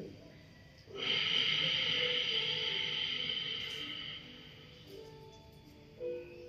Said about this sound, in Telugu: నెమ్మదిగా శ్వాసను బయటకు వదలండి.